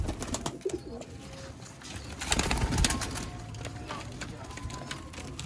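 Sialkoti pigeons cooing in a loft, soft repeated coos mixed with wing rustles and some mechanical clicking, moderately close with a brief louder burst in the middle.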